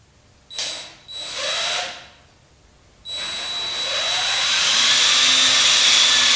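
A power drill with a long bit pre-drills holes in wood while building a Franklin library ladder chair. It whirs in two short bursts, goes quiet, then runs in one loud sustained spell that rises in pitch as the bit bites.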